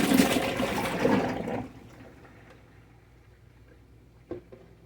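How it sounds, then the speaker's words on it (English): Water and soaked red potatoes pour into a kitchen colander in a loud gushing splash for about a second and a half, then quiet dripping and a small knock follow. "I'm just going to pour them over here in the colander to get all that water off of them."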